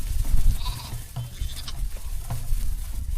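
Sheep running through a hillside village near Mannavanur Lake in the Kodaikanal hills give a couple of short, fairly close bleats over soft outdoor background noise and light pattering.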